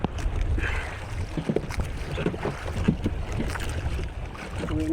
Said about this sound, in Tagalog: Malakas na pati ang alon.